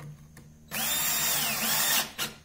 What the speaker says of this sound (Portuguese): Vamos prender aqui com o parafuso